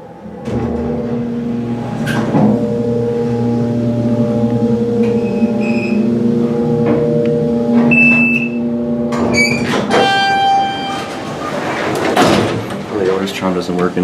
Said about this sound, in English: This is your basic Otis hydraulic elevator installed in the 90s.